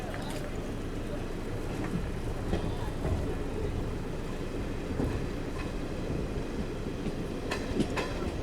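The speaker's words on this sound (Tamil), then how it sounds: "நம்மளோட ட்ரெயின் இப்போ பார்த்தீங்கன்னா ஹொசூர் ஸ்டேஷனில் இருந்து ஒரு 3 நிமிஷத்துக்கு அப்புறம் டிபார்ட் ஆயிடுச்சுங்க" An AC Garib Rath Express train rumbles steadily along the rails after leaving Hosur station, a low, continuous roar and occasional faint clicks, heard from inside a carriage.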